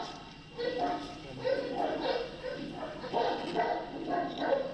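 Dogs bark repeatedly in a neighbour's recording, a series of muffled, moderately distant woofs in irregular bursts, with people talking over them.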